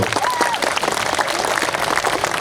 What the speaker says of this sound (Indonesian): Kita berikan tepuk tangan yang luar biasa untuk beliau.